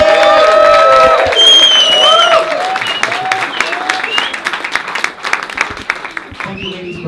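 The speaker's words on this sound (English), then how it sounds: "then we can give you a round of applause" Wedding reception guests clapping for the bridesmaids after the best man's speech, with cheers and whoops, loud at first then thinning into scattered claps over murmuring crowd chatter.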